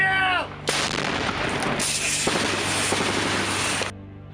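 A single recoilless gun blast booms out, followed by a long, loud roaring rush and rumble that fades after several seconds.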